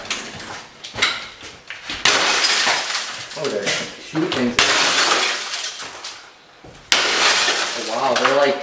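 Layered glass shattering, with several breaking and clinking bursts in a row, mixed with people talking loudly throughout.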